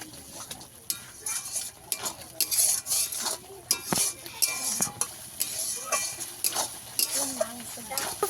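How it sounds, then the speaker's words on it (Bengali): Spice paste for chicken curry with potatoes is stirred and sautéed in a pan, with repeated scraping and clinking of a utensil against metal over a soft sizzle, close and continuous. "দিয়ে আবারও একটু কষিয়ে নেবো আঁচটা একটু কমিয়ে রেখেছিলাম এবার একটু বাড়িয়ে দেবো"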